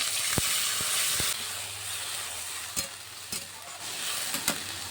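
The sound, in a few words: taro and onion frying in a pan with spices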